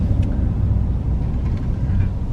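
A 2019 RAM 2500 Tradesman pickup with a 6.4L HEMI V8 and 8-speed transmission drives along, heard from inside as a steady low engine and road rumble with no talk.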